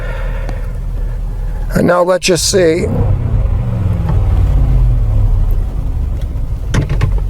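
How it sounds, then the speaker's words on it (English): A 2013 Land Rover with a 5.0L engine cranks briefly and catches, then settles into a steady, close idle rumble; someone speaks briefly before it starts. "we make a lot of pressure to start the engine and to start it up, and then it will balance itself out."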